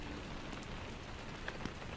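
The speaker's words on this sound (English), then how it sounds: "You might not be able to hear me over the rain." Steady rain falls outside, a dense, even patter of drops on surfaces that holds constant throughout.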